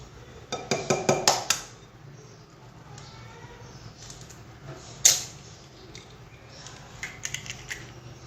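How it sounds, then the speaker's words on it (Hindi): Spoon clinking against a bowl as ground garam masala spice mix is stirred with an egg for spicy fried chicken marinade, a cluster of sharp clatters early, a louder clink midway and lighter taps near the end, no talking. "अब हम इस मिक्सचर को अच्छी तरह मिक्स कर लेंगे और फिर हम इसमें ऐड करेंगे 1 अदद अंडा"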